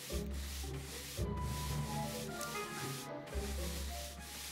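Shoe polishing in the Back to the Future video game, a continuous rubbing and brushing sound with steady strokes, heard alone over a low background hum.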